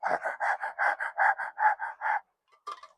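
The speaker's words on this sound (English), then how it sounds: "Is that you breathing over here?" Rhythmic, heavy breathing right at the microphone, about a dozen quick raspy pants in a steady series, then a pause and one last short breath.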